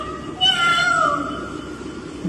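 A human voice imitates a cat's meow: a single drawn-out, wavering mew that rises and then trails off, heard fairly close and alone.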